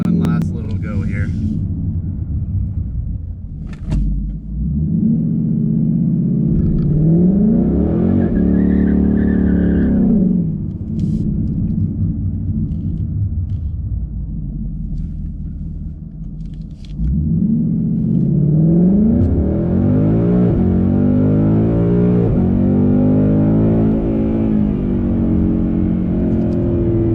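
A Ford Mustang GT with traction control off does a burnout on a drizzly track, its engine revs climbing and falling in loud sweeps twice, with tire squeal and a deep rumble up close and brief talk between.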